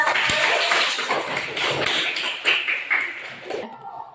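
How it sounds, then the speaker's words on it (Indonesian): Schoolchildren clapping for a classmate's group in a classroom, a dense patter of small hands with some voices mixed in, fairly close and sustained before trailing off. "tepuk tangan untuk kelompoknya Mas Afiza"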